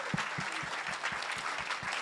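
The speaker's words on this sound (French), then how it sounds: "on peut les applaudir" Audience applause at a closing awards ceremony, fairly faint with individual claps audible in an even rhythm.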